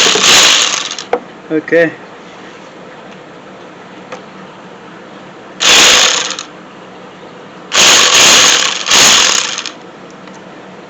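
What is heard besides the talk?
ratchet with size 10 socket removing car AC compressor bolt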